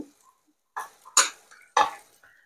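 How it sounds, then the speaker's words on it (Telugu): A few sharp clattering knocks, close by, as ingredients for banana cutlets are tipped into a mixer grinder jar, each burst separated by short pauses. "నేను మిక్సీ జార్లో వేసుకుంటున్నాను"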